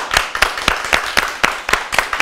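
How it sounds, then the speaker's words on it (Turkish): Studio audience on a Turkish daytime talk show clapping, a loose sequence of sharp, close claps in an irregular rhythm that stays fairly loud and fills the whole moment without voices. "Bir alkış gitsin onlara."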